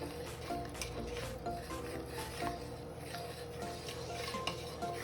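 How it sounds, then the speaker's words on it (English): A spoon scrapes and stirs through a vegan seafood boil in a pot, a continuous close rubbing and clattering that keeps up throughout without talk. "now I'm going to go ahead and stir this up so all this can get well combined."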